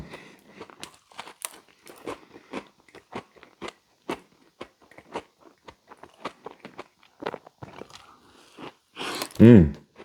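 Biting and chewing on a chocolate cake donut topped with an Oreo, close and crisp, a steady run of soft crunchy bites and chewing that ends in one louder crunch.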